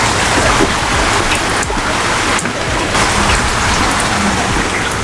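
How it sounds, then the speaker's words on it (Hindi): Heavy rain pours down steadily, a dense hiss with pattering drops on hard surfaces, loud and continuous throughout. "हाँ जी, बारिश स्टार्ट हो गई है"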